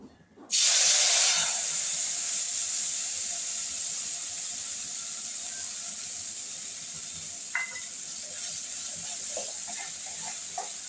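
Water poured into a hot pan of potatoes with cumin, ginger, turmeric and chilli for rui fish murighanta bursts into a loud hiss that settles into a steady, sustained steaming sizzle, with a couple of faint clicks later.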